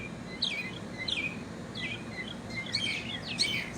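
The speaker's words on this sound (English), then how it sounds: "You can hear the birds sing." Birds sing outdoors in a series of bright, quick chirps and trills that repeat at irregular intervals, moderately near and fairly soft against a steady background hush.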